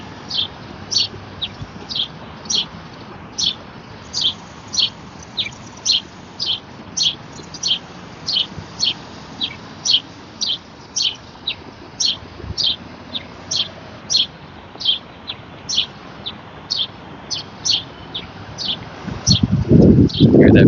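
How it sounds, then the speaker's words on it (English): Bird calling from directly overhead outdoors on a windy day, a steady series of short, sharp, high chirps repeating roughly twice a second for about twenty seconds, with wind noise and a loud gust at the end. "Hear that bird right above me."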